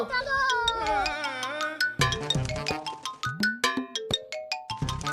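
A cartoon cat meows in a desi comedy cartoon, with high tonal cries and chirpy squeaks that pulse rapidly over bright jingling effects and a sung line.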